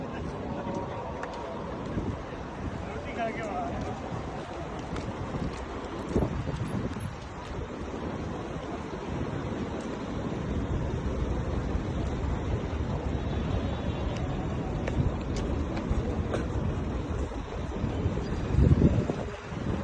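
Steady wind rushes and buffets across the microphone at night, a continuous low roar with faint distant sounds underneath.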